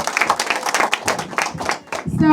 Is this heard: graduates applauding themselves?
yes